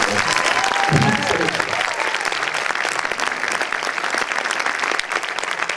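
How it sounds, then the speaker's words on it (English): A crowd at a film screening breaks into a sustained round of applause, dense steady clapping filling the room for several seconds with faint voices mixed in. "So I just really want you guys to give Sam another round of applause."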